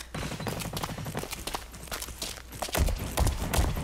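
AK-470 rifle fire in the first-person shooter Blacklight Retribution: a string of quick, sharp shots in a rapid rhythm, followed by a few heavier, louder bursts near the end.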